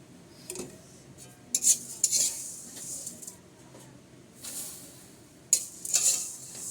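Food bubbles and spits in a pan while being stirred, heard as soft crackling with scattered sharp clicks of a utensil against metal. It is moderately quiet and close, and no voice is heard.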